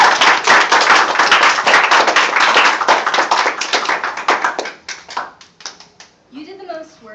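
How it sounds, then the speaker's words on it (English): An anime club audience claps in a dense, loud burst of applause that thins out into scattered individual claps, with a voice starting to speak near the end. "Everyone, give this man a round of applause."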